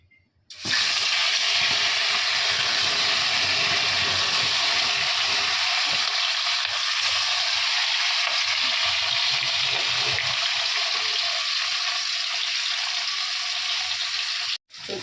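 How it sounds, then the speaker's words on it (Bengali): Fish frying in a pan hisses in a loud, continuous broadband sizzle for most of the stretch, starting abruptly and cutting off near the end, with no talk. "দেখো এখানে মাছগুলো ভাজা হয়ে গেছে"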